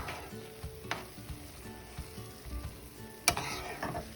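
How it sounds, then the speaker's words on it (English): Tomato pachchadi is stirred in a pan over low-medium heat, giving a faint sizzle broken by scraping strokes and a sharper clatter near the end, quiet and close with no voices. "just keep on mixing with this one"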